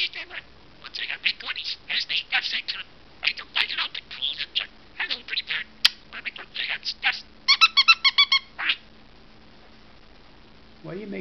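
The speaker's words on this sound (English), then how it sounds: "Why are you making that squeaky noise?" A pet bird makes a string of short, high squeaks in irregular bursts, close and clear, ending in a quick rapid flurry of chirps.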